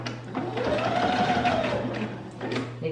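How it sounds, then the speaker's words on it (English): A sewing machine runs a steady straight stitch along a double-rolled hem edge, a continuous close whirring hum with a brief pause near the end and faint room noise. "I'm gonna sew right along, just right along this lip of the double rolled edge."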